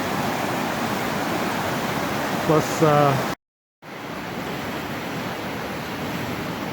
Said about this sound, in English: So it's not very often you'll see this much water in Gold Creek.